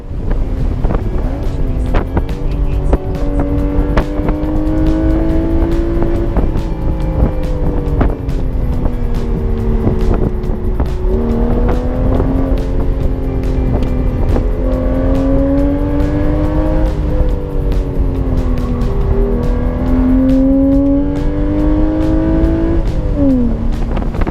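A Porsche's engine drones continuously while driving on a road, loud and close, its pitch rising and falling with gear changes and throttle, with steady wind noise over it.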